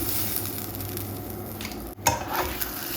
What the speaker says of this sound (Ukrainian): І так само по колу смажимо інші лавашки.